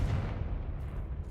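A Confringo blasting spell explodes in Hogwarts Legacy, a deep, rumbling boom that starts strong and fades slightly, with dense low-end roar and no talk.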